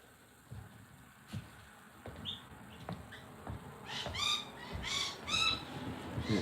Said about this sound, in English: Yeah, it's just the birds